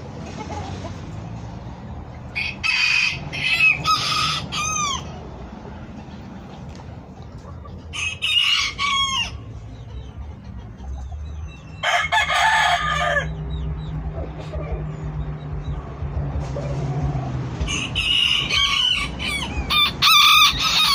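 A small black rooster, a black-skinned mini toy breed, crows several times close by with clucks between the calls, while someone talks quietly in the background.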